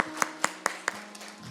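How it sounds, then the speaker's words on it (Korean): A small group in a church Sunday service claps in a short, steady run of about five sharp, evenly spaced hand claps, close and distinct, fading into a few scattered softer claps. "격려의 박수 한번 드리겠습니다"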